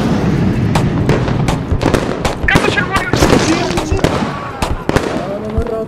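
Rapid bursts of gunfire crackle and pop in dense, uneven volleys in the Squad video game as shrapnel rounds are fired, loud and close, with voices talking over the shooting.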